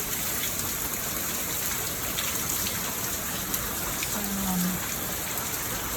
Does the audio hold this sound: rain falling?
yes